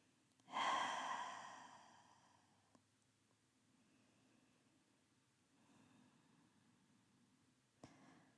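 One deep open-mouth exhale during a yoga flow rushes out loud and close, then trails off, followed by softer breaths and a faint sniff, with no talking.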